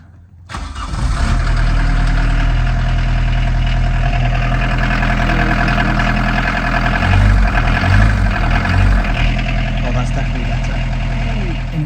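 A Peugeot 106 diesel engine cranks and fires after a brief quiet moment, then settles into a loud, steady, rattling idle that continues throughout.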